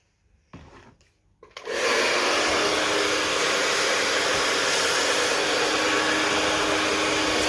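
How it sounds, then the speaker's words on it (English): A hair dryer blow-drying a fringe starts after a few brief handling noises, then runs as a loud, steady, close whoosh that stays constant to the end. "And then clip the sides back while I blow dry my fringe."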